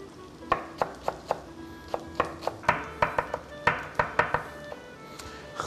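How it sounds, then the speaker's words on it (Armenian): Fresh herbs such as coriander, dill and parsley are chopped finely with a knife on a board, giving a series of crisp, close thuds in an uneven rhythm that comes quicker toward the end, over faint background noise. "եւ մանր կտրատենք"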